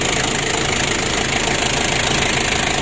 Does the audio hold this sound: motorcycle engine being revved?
yes